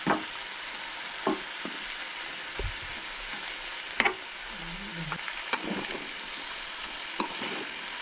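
Goan-style jackfruit bhaji is stirred slowly in a pan over a soft, steady sizzle, with scattered scraping clicks from the spoon against the metal and no talking.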